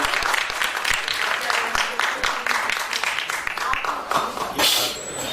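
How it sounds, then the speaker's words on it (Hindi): Sustained, dense applause from a large theater festival audience honoring a play's director, steady throughout with a faint voice underneath. "डायरेक्टर साहब के लिए जोरदार तालियां।"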